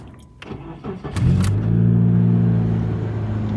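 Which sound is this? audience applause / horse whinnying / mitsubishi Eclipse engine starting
mitsubishi Eclipse engine starting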